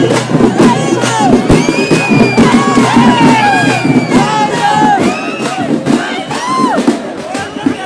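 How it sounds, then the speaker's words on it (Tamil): A dense festival crowd at a temple celebration shouts, whoops and cheers loudly as the karagam dance arrives, overlapping voices forming a constant roaring babble close by. "கரகம் வந்தோடனே எல்லாரும் கூச்சல் போட ஆரம்பிச்சிட்டாங்க"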